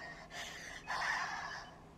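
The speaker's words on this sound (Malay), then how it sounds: "Tercungap-cungap dia." A woman on her deathbed gasps and pants for breath in rapid, strained breaths, close and fairly faint, with no talking.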